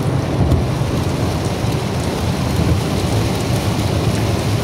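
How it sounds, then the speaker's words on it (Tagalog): Steady heavy rain and rumbling thunder on the Hume Motorway near Marulan at night, a dense continuous roar of rainfall with low rolling thunder throughout, no voices. "Umuulan po dito sa Yumi Highway or Yumi Motorway."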